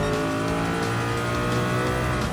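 Gr.1 race car engine held at high, steady revs at the launch in Gran Turismo Sport at Circuit de la Sarthe, a loud continuous buzzing drone with no talk.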